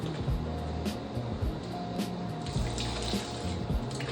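Tap water runs steadily into a sink while a wig is washed, a continuous broadband rush with small splashes and clunks, fairly close and alone with no talk.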